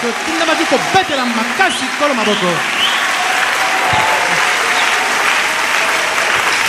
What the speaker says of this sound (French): On devait acclamer très fort le Seigneur.